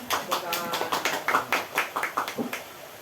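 Rhythmic hand clapping from a small group of teachers at an educational gathering in Cilacap, Indonesia, with speech mixed in alongside the regular claps.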